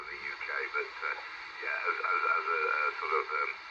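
A Uniden Bearcat UBC9000XLT scanner tuned to wide FM plays a thin, band-limited voice with a steady background hiss running underneath throughout.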